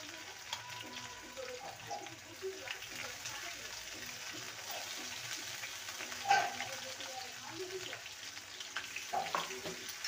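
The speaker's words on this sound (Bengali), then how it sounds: "এবার আদা আর কাঁচা লঙ্কা বাটা দিয়ে দেবো।" Ginger and green chili paste fries in tempered whole spices for a vegetarian pointed gourd dish, giving a steady, quiet sizzle with occasional stirring scrapes and utensil taps.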